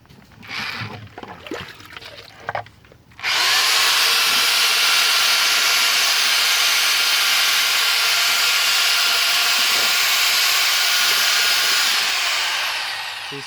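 An electric mixing machine runs at full power, whirling a vortex in liquid for an aircrete foam agent test; a loud, steady whirring roar starts suddenly after a few seconds of faint talk and holds unbroken to the end.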